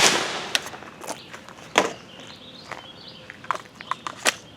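Emek MG100 paintball marker dry firing without a magazine, a series of sharp, irregularly spaced clicks and pops close by, some louder than others, over quiet outdoor background.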